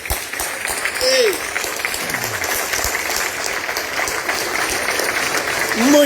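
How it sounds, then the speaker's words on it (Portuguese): Strong applause from a crowd at a political party's Kings' Day dinner, steady and sustained clapping throughout, with brief voices and whistles over it. "Era uma verdadeira salva de palmas, forte assim."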